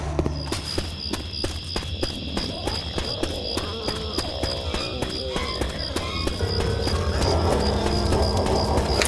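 Chirping birds in the Left 4 Dead 2 video game, bright repeated calls over a busy game soundscape of footsteps and rhythmic thumps, fairly loud and continuous.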